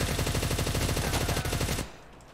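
Rapid machine gun fire from a weapon in Minecraft, a fast, steady burst of loud repeated shots that stops abruptly near the end, leaving quieter game ambience.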